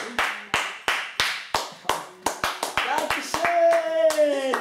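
A small group claps in a brisk, uneven burst of a dozen or so sharp hand claps, loud and near, before a voice cuts in with a sustained tone at the end.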